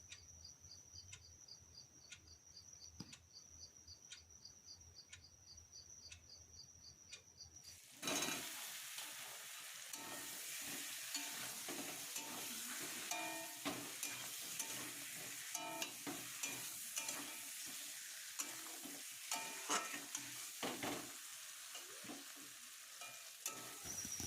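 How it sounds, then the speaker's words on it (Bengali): Potatoes with spices frying in oil in a pan: quiet crickets chirp steadily at first, then a loud close sizzle with busy scraping and stirring takes over for the rest. "আলু দিয়ে ভালো করে কষিয়ে নিচ্ছি, কষে বেশ তেল ছেড়ে মতো আসবে"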